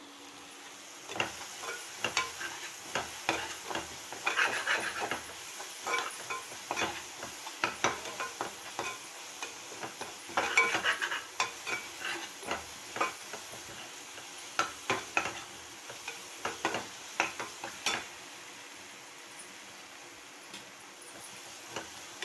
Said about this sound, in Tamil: கொதி வருது